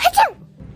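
A single short, sharp sneeze close up, over in under a second, followed by quiet room tone.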